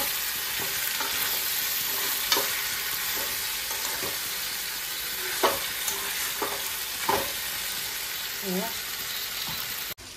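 Pork curry with fried onion and masala sizzles loudly in a pan. Several scraping stirs of a spoon sound over the frying.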